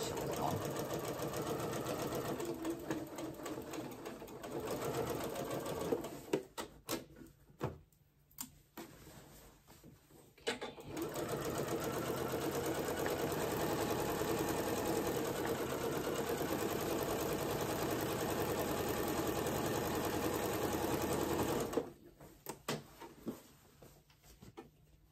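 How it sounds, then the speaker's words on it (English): A sewing machine runs steadily while stitching a seam on pajama pants. It keeps up a fast, even motor whir, then stops for a few brief pauses and starts again. "and sew your 5/8. Stitch a couple, reverse,"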